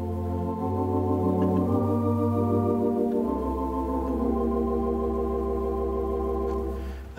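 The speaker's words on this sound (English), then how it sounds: "Until we introduce the presence of the tremolant, and then it sounds like this." Wurlitzer theatre organ at a musical museum playing sustained chords on its tibia rank with the tremolant engaged, a warm wavering tone with deep bass notes, steady and full throughout with no talking.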